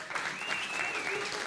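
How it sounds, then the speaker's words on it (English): A crowd at an information security conference talk gives a short, fairly faint burst of applause, with a thin whistle-like tone running through it. "one more round of applause for this amazing gentleman"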